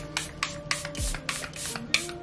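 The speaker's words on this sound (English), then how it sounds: "Let's spray our face" A face mist bottle gives a series of short, breathy spray bursts at an even pace close to the microphone, with light rubbing and handling noises between them.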